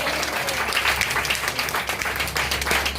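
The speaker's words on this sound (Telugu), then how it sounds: "చప్పట్లు కొడదామా దేవునికి?" A church congregation claps for God during a pastor's sermon: sustained, lively applause from many hands that carries on throughout, with some voices underneath.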